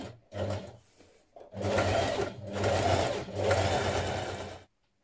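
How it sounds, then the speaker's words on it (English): Sewing machine top stitching the raw edge of a dress collar: several close, steady bursts of rapid mechanical whirring separated by short pauses, with no talk. "Press and baste the raw edge here, then you're going to top stitch"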